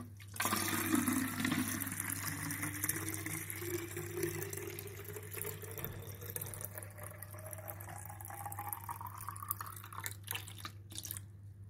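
Water poured steadily into a plastic bottle to make a homemade pesticide, a continuous gurgling splash whose pitch rises as the bottle fills, with a low steady hum underneath and no talking.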